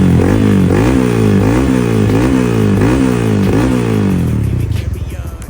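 A motorcycle engine runs loud and close, revving up and down in steady repeated surges before easing off toward the end, with no talking.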